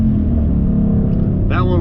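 A 2017 Dodge Challenger RT fitted with a K&N cold air intake accelerating, a loud, close, deep engine roar with the tires losing traction, steady throughout with a brief voice near the end.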